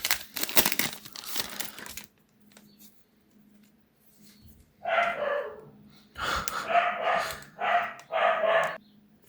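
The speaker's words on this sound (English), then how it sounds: "Hopefully, me dog decides to let me film. Stops barking." Several sharp, close dog barks come in quick bursts in the second half of the clip, after a stretch of crinkling packaging.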